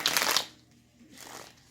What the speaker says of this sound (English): Let me get some shuffles in here.